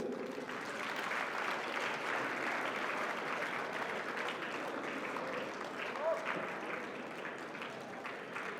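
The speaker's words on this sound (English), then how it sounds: "Congratulations and a big round of applause for Vivan." An audience at a youth competition award ceremony applauds a second-place winner, a dense, continuous wash of many hands clapping at an even level throughout, with faint voices underneath.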